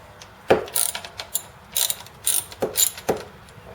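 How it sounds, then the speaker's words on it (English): A ratchet on a 10 mm socket cracks loose the carburetor nuts on a Predator 212 small engine, a close sharp snap followed by short bursts of rapid ratcheting clicks in uneven strokes. "You need a 10 millimeter socket, a ratchet that's not a piece of shit."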